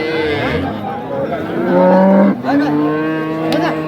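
Dairy cows moo loudly and repeatedly, several long calls overlapping amid a busy crowd murmuring in the background at Ambari livestock market in Dinajpur, Bangladesh.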